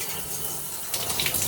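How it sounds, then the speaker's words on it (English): Hotel shower at a Baymont Inn and Suites in Branson, Missouri, running steadily with a hissing spray of water, close and continuous, growing slightly splashier toward the end. "Water pressure's decent on that setting."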